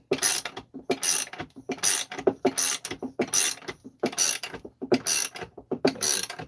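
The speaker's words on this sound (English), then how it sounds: "Tighten it down." A ratchet tightens a small part on a 272 engine crankcase in quick, rhythmic bursts of clicking, each run of ratcheting separated by short pauses, close and fairly loud with no voices.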